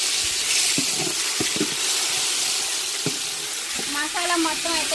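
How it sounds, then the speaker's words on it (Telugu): Ginger garlic paste frying in a pan with whole spices and bay leaves, a steady close sizzle with scattered stirring scrapes throughout. "అల్లం వెల్లుల్లి పేస్ట్ మొత్తం వేసిన తిప్పేసుకుందాము"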